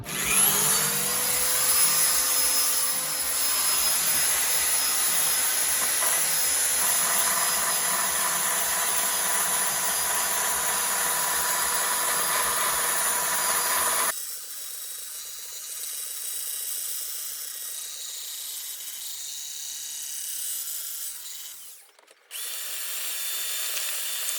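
A power tool grinds epoxy-filled bodywork on a 1989 Kawasaki Ninja ZX7. A loud, close, steady whine runs for about fourteen seconds, then drops to a quieter hum with a brief harsh burst near the end.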